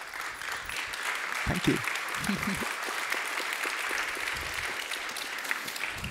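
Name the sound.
audience applause at a summit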